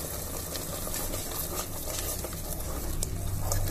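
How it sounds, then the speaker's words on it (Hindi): Chole masala is stirred and roasted in a pan, with a steady sizzle and repeated scraping and stirring sounds heard up close. "अब हम मसाले को अच्छी तरह से भून लेंगे।"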